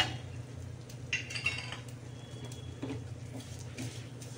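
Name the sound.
poppy seeds being dry-roasted and stirred in a pan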